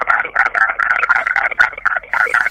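A voice imitates a diesel taxi engine with a choppy, rhythmic, throaty chugging sound, held close and loud for a couple of seconds.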